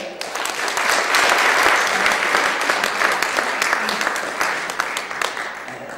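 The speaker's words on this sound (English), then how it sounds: "would you please give a very warm round of applause to Connelly" Audience applause for a speaker at a talk, a dense, steady wash of many hands clapping together that stays loud for the whole stretch with no voices over it.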